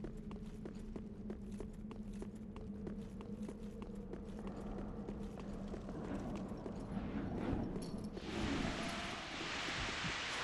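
Horse hooves clip-clop in a steady, rapid gallop rhythm in Dark Souls 3, moderately loud over a constant background wash, swelling into a louder rushing roar toward the end, with no speech.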